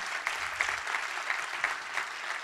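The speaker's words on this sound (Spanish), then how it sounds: "Dele aplauso al Señor." A congregation applauds during a church sermon, a sustained, fairly loud patter of many hands with a few sharper claps standing out, while a low voice murmurs briefly early on.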